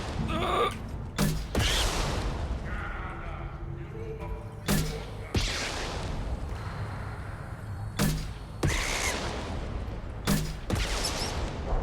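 Explosions and gunfire in the video game Mass Effect 2, with repeated sharp heavy blasts every couple of seconds over a rumbling battle bed, loud and close, with a person talking now and then.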